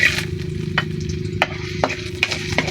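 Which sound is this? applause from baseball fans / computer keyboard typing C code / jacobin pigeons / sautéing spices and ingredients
sautéing spices and ingredients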